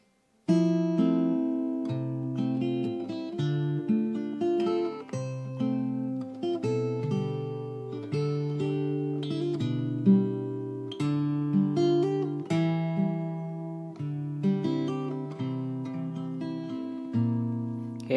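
Fingerstyle acoustic guitar plays a stripped-back section, with steady plucked bass notes and melody notes ringing together in a gentle continuous passage, close and clear with no voices.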